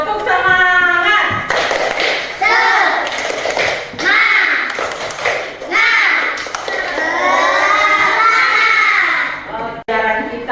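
Schoolchildren in an Indonesian classroom perform a rhythmic spirit clap chant, chanting loudly together in short bursts with claps and taps mixed in, led by a teacher's voice.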